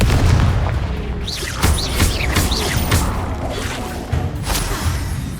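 Confringo explosive spells blast repeatedly during combat in the Hogwarts Legacy video game, with several loud booming impacts and crackling bursts scattered across a dense, continuous battle din.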